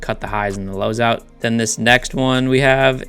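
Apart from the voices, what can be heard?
No distinct noise like a dog, phone or traffic.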